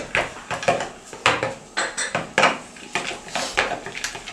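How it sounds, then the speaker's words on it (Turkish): Carrot tarator mixture with walnuts stirred in a bowl, a spoon scraping and knocking against the sides in a steady series of close, fairly loud strokes roughly every half second, with no talk. "Feyza iyicene karıştırıyor."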